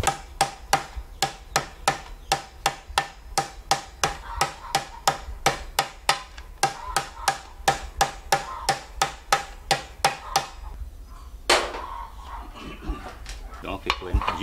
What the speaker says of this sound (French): il faut juste un petit coup de marteau pour remettre bien à plat.